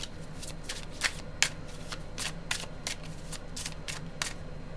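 Tarot cards being shuffled by hand in a steady series of crisp riffling bursts, close and fairly quiet, with no talking.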